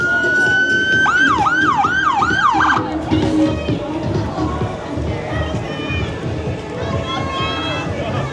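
An ambulance siren wails with rising and falling sweeps at the Blackpool Pride parade, loud at first then fading, over a busy crowd murmur and people talking nearby.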